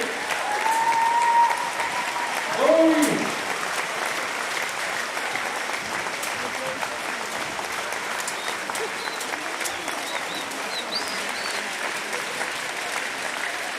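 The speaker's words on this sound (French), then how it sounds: "Vous pouvez les applaudir." A volleyball tournament ceremony audience applauds the international referees with sustained, even clapping at moderate distance, and a couple of short voices are heard near the start.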